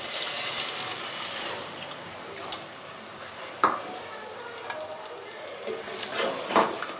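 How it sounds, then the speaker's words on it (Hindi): Half a bowl of water poured into a pan of fried palak chicken masala, producing a steady hissing sizzle and bubbling with faint stirring clinks, close and continuous. "अब इसमें सिर्फ मैं हाफ़ बाउल जो है वो पानी का डाल रही हूँ सिर्फ चिकन के लिए"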